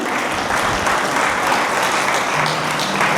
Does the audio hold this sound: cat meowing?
no